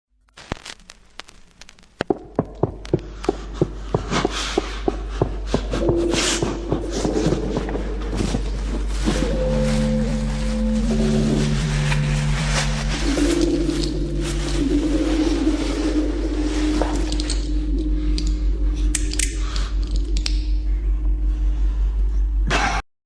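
Minecraft music disc: crackling static and scattered clicks build into a steady noisy hiss with a low hum, while faint tonal notes and muffled footsteps drift underneath.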